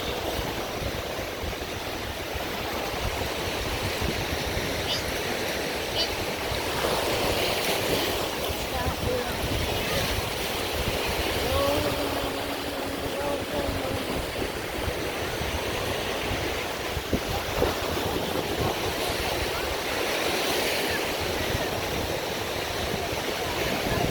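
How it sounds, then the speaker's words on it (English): Waves wash steadily onto a beach beneath green water stretching far out, a continuous broadband surf roar with gentle swells and wind, holding at a moderate level throughout with no voices. "I was just like being intrigued with the water and the sounds of the water"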